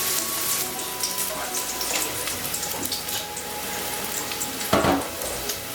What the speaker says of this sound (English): Browning that garlic and those onions.